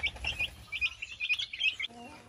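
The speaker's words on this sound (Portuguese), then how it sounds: "Quando eles começam a piar, por sua questão com fome já." Hungry young chicks on a farm peep in rapid, high, overlapping chirps at close range, continuous and fairly soft, with a brief lower call near the end.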